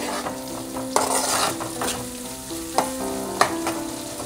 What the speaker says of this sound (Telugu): ఇది బాగా గోల్డ్ కలర్లో వచ్చే వరకు వేపుకోవాలండి.